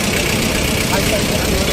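A steady, continuous tractor engine rumble, idling evenly without change throughout, fairly loud and close, at a tractor rally.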